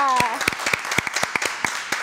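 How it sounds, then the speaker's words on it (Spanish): Applause greets a guest, José Antonio from Cuba, at a Spanish-language TV interview in West Palm Beach: brisk, irregular hand claps close up, with a brief voice at the start. "quiero que le den un grande aplauso a mi invitado"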